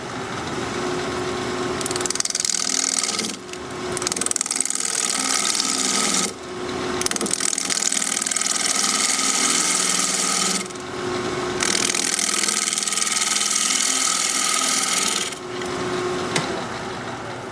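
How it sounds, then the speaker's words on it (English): Wood lathe spinning at a little over 1200 RPM, shaping cork from a tree with a 5/8 inch bowl gouge: a continuous bright scraping hiss in long passes, broken by brief pauses as the tool lifts off. "We're going to be turning at a little over 1200 RPM, 5/8 inch bowl gouge, mask and face shield on."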